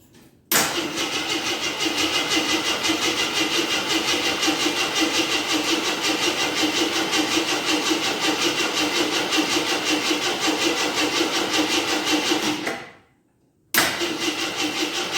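A 1983 Scrambler that has not run for years cranks steadily and loudly for about twelve seconds, a droning starter grind, then cuts out briefly before cranking resumes; no voices.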